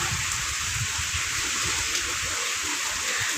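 Heavy rain pours down in a dense, steady hiss, loud and constant throughout with no pauses.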